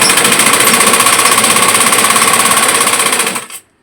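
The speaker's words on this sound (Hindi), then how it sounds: "तो पहले मैं एक सिलाई लगाती हूँ, फिर आप सभी से बात करती हूँ।" A sewing machine stitches a six-panel petticoat in a steady, loud, rapid run of needle strokes close by, stopping abruptly near the end.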